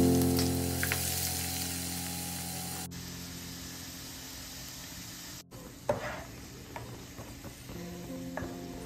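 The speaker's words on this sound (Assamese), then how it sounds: "এতিয়া মই তেলখিনিতে পিয়াজ অলপ ফ্ৰাই কৰি লম" Onions fry in hot oil with a steady, hissing sizzle that carries throughout, joined by a few stirring clinks near the end.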